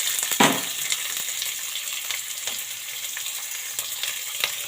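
Onions drop into hot oil already crackling with mustard seeds, cumin and chana dal for a cabbage palya. There is a soft thump as they land, then a continuous close sizzle with faint stirring and no voices.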